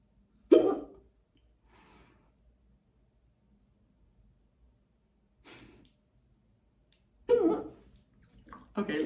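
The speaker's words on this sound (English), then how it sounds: "now I have the hiccups" Hiccups from a person, two or three short, sharp bursts separated by long quiet gaps, close and fairly soft.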